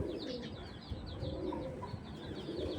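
Soft, low cooing of an Army breed pigeon repeats against a hum of background noise, with faint chirps of other birds now and then.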